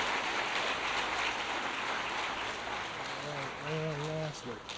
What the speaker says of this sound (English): If we can have a quick round of applause for that group of students